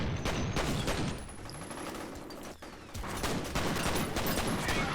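Dense, rapid gunfire from a firefight in the shooter game F.E.A.R., a sustained fusillade of overlapping shots that stays loud and continuous, with a brief dip before the volley resumes.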